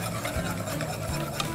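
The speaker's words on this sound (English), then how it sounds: "we're just going to have you mix that up with your whisk there" A whisk stirs an arrowroot flour mixture in a bowl, giving a steady, close scraping and rubbing texture that runs through the short moment without pause.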